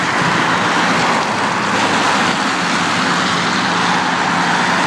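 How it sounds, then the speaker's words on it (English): A car driving past on a road near a sidewalk and traffic light, heard as steady, loud, broadband road noise with a continuous engine and tyre roar through the whole stretch. "And one more car coming this way"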